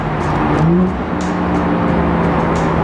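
A 600-horsepower turbocharged, methanol-injected BMW F30 335i heard from inside, with a steady low engine drone that swells briefly under load, loud and continuous.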